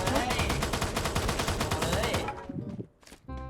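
Gunfire rings out in the mobile shooter Free Fire, a dense, rapid stream of loud automatic shots. It cuts off after about two seconds, leaving a few scattered, quieter pops and game noises.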